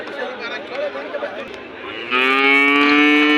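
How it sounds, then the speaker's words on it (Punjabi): A large buffalo at the Mansa livestock market gives a loud, sustained moo. Crowd chatter and talking run beneath it just before the call. "ਪਸ਼ੂ ਮੰਡੀ ਮਾਨਸਾ ਦੀ ਸਭ ਤੋਂ ਵੱਡੀ ਮੱਝ ਆ ਬਈ"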